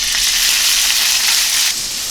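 Rice hitting a very hot pan of extra virgin olive oil, giving a loud, steady sizzle that holds for about two seconds and eases slightly near the end, with no voices.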